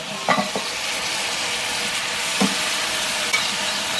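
Masala being stirred together with cooked bone-in beef and its broth in a pan for kappa biryani, a constant close sizzle with a few soft scrapes and knocks from the spoon, with no voices.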